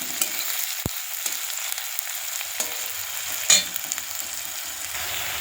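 Green chillies frying in a pan, a loud continuous sizzle with a few stirring scrapes and one sharp clack from a utensil, no talking.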